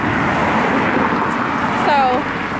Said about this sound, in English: I know y'all hear this traffic.